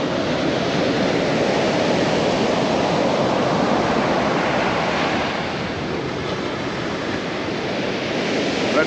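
Ocean surf at Half Moon Bay beach on a February walk, a continuous loud wash of breaking waves mixed with wind noise on the microphone, steady and close throughout.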